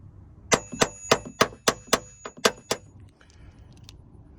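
Hammer blows on the six Torx door hinge bolts of a Jeep Cherokee XJ, sprayed with penetrating oil: nine sharp metallic taps in a quick, fairly even run over about two seconds, then a faint rattle and quiet.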